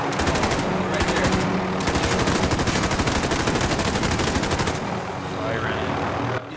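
Dense, continuous automatic gunfire in a Warzone battle royale match, rapid bursts running nearly nonstop at high volume for most of the stretch, with players talking over the shooting.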